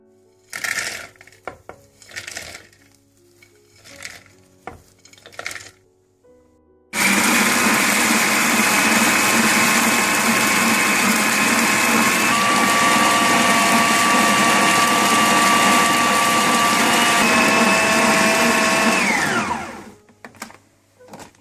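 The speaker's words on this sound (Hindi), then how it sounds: "मैं इसको थोड़ा चापर में थोड़ा सा इसको चाप करूंगी" An electric food chopper whirs loudly and steadily for about thirteen seconds while breaking up boondi for motichoor ladoo, after a few light knocks and clicks of setting up.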